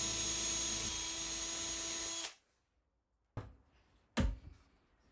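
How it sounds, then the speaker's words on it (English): A power drill with a Forstner bit whirs steadily and loudly into wood for a couple of seconds, then stops; two short knocks follow after a pause. "make a drill guide in a fresh piece of wood to try and keep the drill bit steady"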